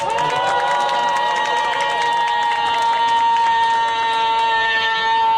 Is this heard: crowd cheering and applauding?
yes